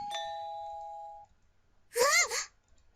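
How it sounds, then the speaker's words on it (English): A doorbell in the visual novel game Da Capo 2 gives one clear chime that rings and decays for about a second, followed after a pause by a brief voice. "The doorbell suddenly rang and Yume pulled away from me."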